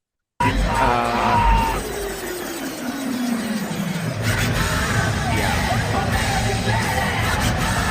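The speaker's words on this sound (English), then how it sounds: "Listen to this crowd." A crowd cheering and screaming as a former president walks into a UFC event: loud, roaring, indistinct crowd noise with shouts, building and staying dense, with some murmured talk mixed in.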